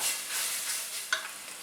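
Garlic sizzles in hot oil with cumin seeds and ajwain for Punjabi rajma masala, a steady soft hiss with a brief sharper crackle and stir partway through, no talking.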